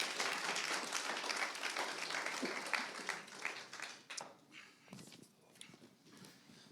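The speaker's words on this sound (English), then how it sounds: "So please give a round of applause for Grant Shapps for all he's done in the last 18 months." An audience at a Conservative Party conference applauds Grant Shapps, a dense wash of clapping that gradually thins and fades toward the end.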